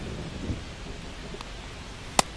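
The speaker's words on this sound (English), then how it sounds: "It feels like we might be headed towards a rain delay if the weather doesn't ease up, Chris" A thunderstorm with rain plays in the baseball video game MLB The Show 25, a steady hiss of rainfall with a faint rumble and one sharp crack near the end, no voices heard.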